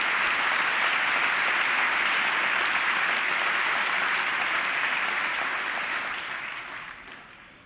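Sustained applause from the audience in the chamber during the 2000 State of the Union address to a joint session of Congress, loud and dense clapping throughout before tapering off near the end.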